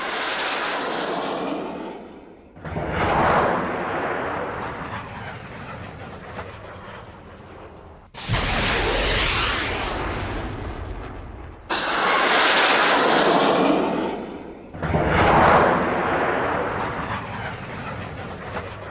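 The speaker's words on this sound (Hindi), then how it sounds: "बक मिसाइल से हमला किया है, रूसी फोर्सेस ने वीडियो जारी कर दिया।" Footage of a Russian Buk missile strike on a Ukrainian weapons depot: loud, dense roaring bursts in several separate stretches, each starting abruptly, with no speech.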